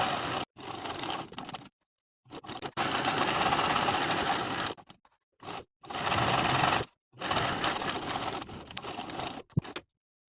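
A sewing machine stitches buttonholes on the right front panel of a double-breasted skirt, running in several loud, rapid bursts separated by short silent pauses, with no talking.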